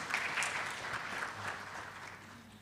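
Audience applause in a meeting room, a brief burst of moderate clapping from a small group that gradually trails off.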